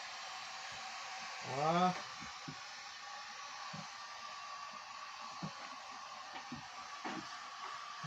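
Hot air tool heating a custom rear bumper on a Peugeot 106 blows a steady, quiet rush of air, with a person speaking briefly over it and a few light knocks.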